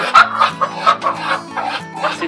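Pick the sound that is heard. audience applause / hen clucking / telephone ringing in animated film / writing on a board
hen clucking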